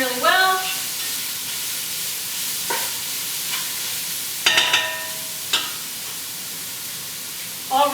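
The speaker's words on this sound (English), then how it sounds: "So stir that in, mix that all in really well." Homemade pasta sauce stirred in a pan, with soft scraping and bubbling sizzle running steadily under a few brief clinks and voiced bursts, moderately close.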